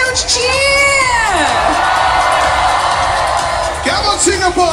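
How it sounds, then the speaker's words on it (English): A large crowd at a Singapore National Day celebration cheers and whoops loudly and continuously, with shrill children's shouts rising and falling throughout and swelling again near the end. "So how about we give them a huge cheer?"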